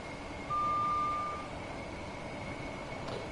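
A Class 387 electric commuter train runs in Train Sim World 2 on a London commuter route, a steady low rumble with a sustained electronic tone and a brief beep early on.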